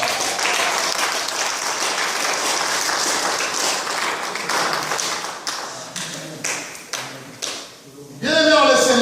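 A church congregation claps and cheers at a sermon, a dense, loud wash of applause with sharp taps that thins into scattered claps, then gives way to a voice at the end.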